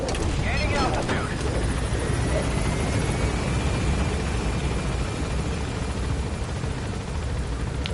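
Helicopter in the Metal Gear Solid 5 video game climbing, a loud, steady rotor and engine roar with a faint rising whine, continuous and close throughout.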